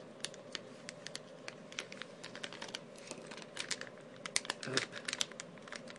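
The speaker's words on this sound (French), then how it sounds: "après avoir ouvert les sachets de figurines" Plastic packets of collectible figurines are torn and opened close by, producing quiet, irregular crinkles and crisp snaps in bursts, with one brief spoken word.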